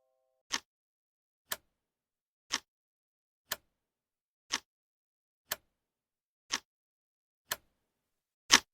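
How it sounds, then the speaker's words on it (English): A time bomb clock ticks alone in silence, eight single clicks about one second apart, each crisp and fairly quiet, the last one a little louder. "That is the sound of a time bomb."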